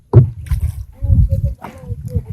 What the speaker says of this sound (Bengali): কায়াকিং করতেছি